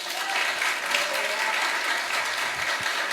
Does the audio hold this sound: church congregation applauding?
yes